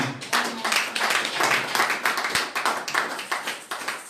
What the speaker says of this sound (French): Je crois que quelqu'un devait applaudir.